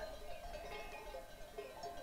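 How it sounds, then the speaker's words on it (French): A flock of sheep with bells grazes near a shepherd and dogs in the Ubaye mountains, faint and distant, with soft bleats and light bell tinkling over a quiet outdoor hush, no voices. "Il y a des moutons, il y a un berger, il y a des chiens."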